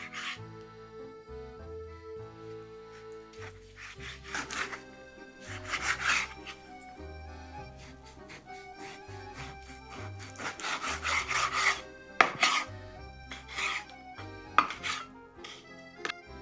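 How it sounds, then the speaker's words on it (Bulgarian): A knife draws repeatedly through pork loin onto a cutting board, slicing thin chops with a series of scraping, rasping strokes over a quiet, steady background tone. "Първо трябва да го нарежа на сравнително тънки пържоли."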